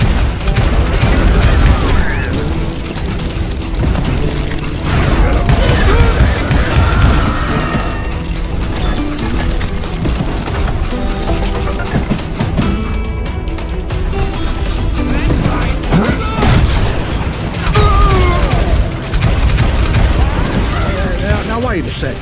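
Gunfire in the Western video game Call of Juarez Gunslinger: a dense, continuous barrage of shots and booming impacts, loud and sustained throughout with no pauses.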